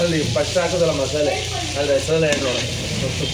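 Ginger garlic paste sizzles and fries steadily in a pan, a dense continuous crackle with a voice talking over it.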